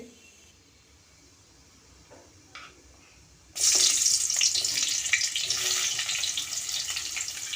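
Green chillies and onions drop into hot oil in a kadai and break into a loud, steady sizzle that starts abruptly partway through after a quiet lead-in, then keeps frying close up without talk.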